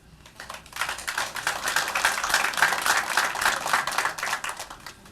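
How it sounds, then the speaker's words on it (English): Audience members clap at a parish council meeting, a patter of scattered hands swelling quickly into a fuller round of applause before tapering off, heard from a moderate distance. "I'm going to ask that you would hold back your applause."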